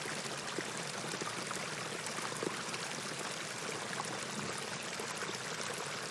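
Water flowing steadily in The Excavation of Hob's Barrow game, a faint, even rushing wash like a stream that stays constant throughout, with no voices.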